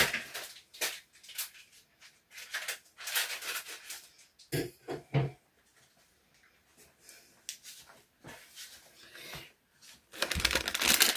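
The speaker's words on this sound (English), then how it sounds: "I'm just going to open these with a pair of scissors." Crinkly plastic rustling and crunching from a packet being handled and cut, in irregular bursts with pauses, close by and moderately loud.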